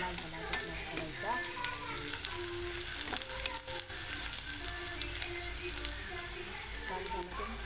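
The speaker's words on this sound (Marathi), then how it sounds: "सगळं कांदा थोडासा लाल झाला करायचा." Onions sautéing in oil until reddish-brown for a chicken curry, giving a steady close sizzle with occasional scrapes and clinks of stirring throughout.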